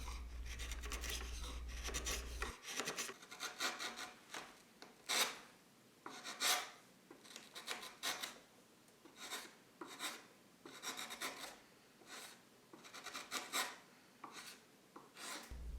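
Hand-carving a wooden spatula, the blade cutting away at an angle along the grain in a steady series of close, dry rasping strokes with short pauses between them.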